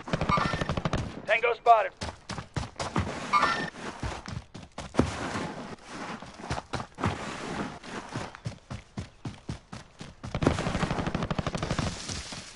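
Shooter game gunfire crackles in rapid, sharp bursts of close shots, sometimes nearly automatic and sometimes spaced, with voices talking between and over the volleys.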